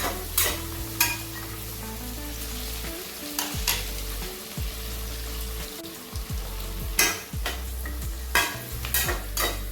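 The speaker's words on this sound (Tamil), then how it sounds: "நல்லா அந்த வெங்காயம் பச்சை மிளகாயும் நல்லா வதங்கணுங்க வதங்கட்டும்" Onions and green chillies sauté in oil in a pan for chicken biryani, a steady close sizzle that runs throughout, broken by repeated louder bursts as a spoon stirs and scrapes the pan, with no voices.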